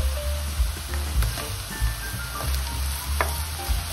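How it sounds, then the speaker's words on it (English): Bell peppers hitting softened golden onions in a hot frying pan over high heat, a steady close sizzle with small crackles and occasional scraping, no talking. "The onions are getting soft and golden, what we want. So I'm going to add the peppers."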